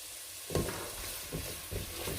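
Garlic cloves stirred and frying in a pan at medium heat for Turkish lentil soup, a soft steady sizzle with a few brief scraping stirs, close and alone.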